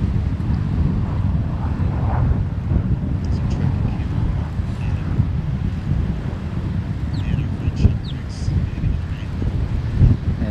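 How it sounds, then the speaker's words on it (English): Stiff north wind buffets the microphone at a Falcon 9 launch site in Florida, a continuous low roar with gusty swells lasting throughout, while a voice speaks intermittently over it. "the wind's pretty stiff out of the north"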